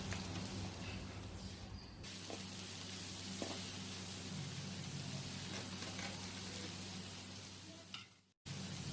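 Finely chopped onions, four to five of them, sizzle and fry in hot oil for goat leg soup, a steady close crackling hiss broken by a few stirring clinks.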